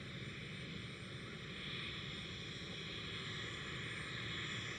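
Emirates airliner passing at Amsterdam Schiphol, a steady, fairly faint broadband jet roar that holds level throughout without a clear peak.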